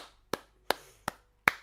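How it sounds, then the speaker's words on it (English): One person claps slowly alone: four sharp, separate hand claps about a third of a second apart, close and dry, with quiet between them and no talking. "the problem with the single clap is no matter how sincerely I mean it, it will always sound sarcastic"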